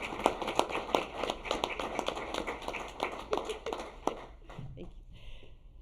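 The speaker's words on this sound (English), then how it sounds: "Can we give them all a round of applause for supporting our contest?" Audience applause at a city council meeting, a dense crowd clapping for roughly four seconds before tapering off, with some chatter mixed in.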